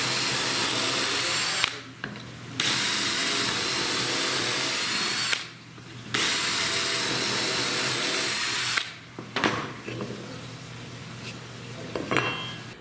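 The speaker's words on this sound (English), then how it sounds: "drill a quarter inch hole" Loud power drill whining steadily as it bores a quarter-inch hole, stopping briefly three times before a final burst with clattering handling sounds.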